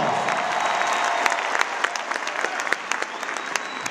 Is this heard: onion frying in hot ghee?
no